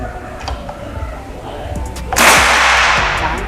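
Single sharp report of a PCP air rifle at a chronograph test, a loud crack with a broadband burst and short decaying tail, fired outdoors after quiet murmured talk.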